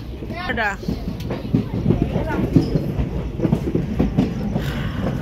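A passenger train runs on rails on a foggy night, with rhythmic clickety-clack and a steady rumble heard from inside the carriage, close and continuous, while voices talk faintly over it.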